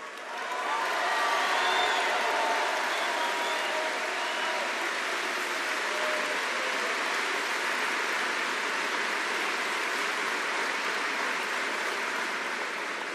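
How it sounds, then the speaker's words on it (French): A large crowd at a May Day political rally in France applauds, loud and sustained, with clapping and cheering washing over the hall from start to finish. "Et vous pouvez l'applaudir, il le mérite."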